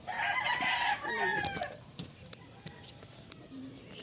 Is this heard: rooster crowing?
yes